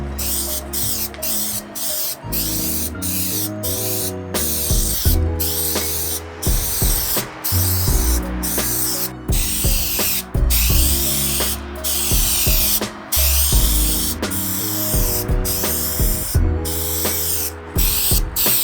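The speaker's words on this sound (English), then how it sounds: "It's called Looking Glass by Krylon. It's just a spray paint silver finish" A can of Krylon Looking Glass silver mirror-finish spray paint is sprayed onto a mirror being restored, producing a loud, steady hiss broken by short bursts, with tonal sounds running underneath.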